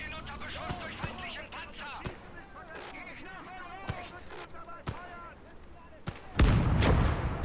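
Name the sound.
gunfire and artillery in video game Gates of Hell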